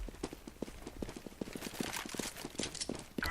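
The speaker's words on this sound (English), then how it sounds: "Footsteps here on" Rapid footsteps of a player character in the video game CS:GO during a competitive match, a steady run of quick, close, evenly spaced thuds with no talk over them.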